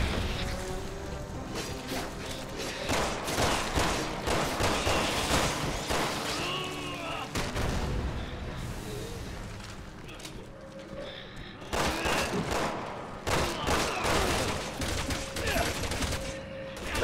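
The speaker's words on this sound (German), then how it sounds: "Der Panzer ist so dumm, schießt die ganze Zeit an die Säule" Tank cannon in Resident Evil 6 repeatedly firing at a pillar, heavy booming blasts and crashing impacts recurring throughout amid dense battle noise and gunfire.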